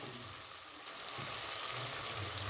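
Grated coconut and tomato fry in oil for upma with a steady, soft sizzle that is close and low in level, and no talk over it.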